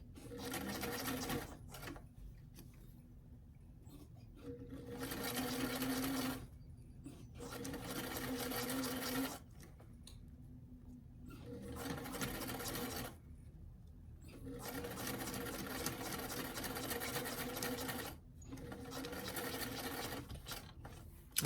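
A sewing machine stitches a zipper into a doll dress in repeated runs of fast, even whirring and clicking, each a few seconds long, broken by short quiet gaps; fairly soft and close, with no talk.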